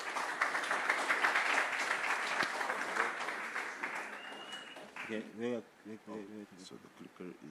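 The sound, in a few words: audience applause for conference speaker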